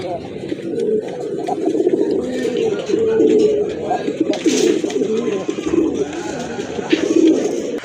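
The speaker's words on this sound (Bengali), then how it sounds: "এই যে দেখেন কবুতরগুলো" Fancy pigeons at a market stall, including a pair of Nayra pigeons, coo softly and repeatedly amid steady background chatter and bustle, with the birds close by and continuous throughout.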